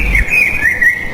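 A cartoon crow in an animated Hindi children's story calls out with one loud, close, whistled chirp that wavers up and down for about a second, with no talking over it.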